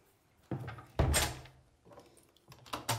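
Enclosure doors at a zoo's red wolf exhibit shut with a few separate knocks and clunks, one heavier bang near the middle, fairly close and with no talking.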